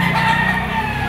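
A two-year-old yellow-legged banderado gamecock of lemon sweater bloodline lets out a single loud, close crow.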